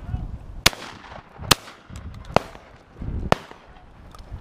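Shotgun shots at a pheasant shoot in Lincolnshire: four sharp, loud outdoor reports spaced about a second apart, each with a short decaying echo, over faint background sounds.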